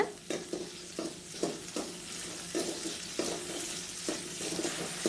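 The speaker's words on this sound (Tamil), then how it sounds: "அதுக்கேற்றாப்புல நீங்கள் பச்சை மிளகாய் சேர்த்திக்கலாம். எல்லாத்தையும் நல்லா வதக்கி விடுங்க." Green and dried chillies sautéing for curry leaf chutney, a soft sizzle under repeated rhythmic spatula scrapes against the pan, close but fairly quiet, with no talking.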